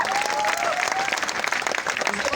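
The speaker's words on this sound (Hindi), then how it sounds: "चाहूंगा इनके लिए फिर से जोरदार ताली बजाइए" Enthusiastic crowd applause at a business team event, a continuous dense patter of many hands, fairly loud and sustained, with a faint voice briefly audible early on.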